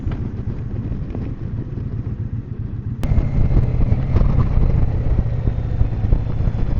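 A motorcycle rides along back roads in Texas, its engine droning steadily under rushing wind noise, and the drone grows louder and fuller partway through.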